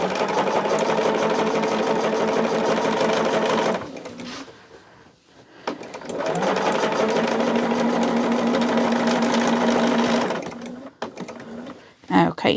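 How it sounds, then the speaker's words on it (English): A sewing machine stitches a ribbon petal bag in long continuous whirring runs with brief pauses between, close and steady, while someone talks over it. "here we're going to back stitch a couple stitches there"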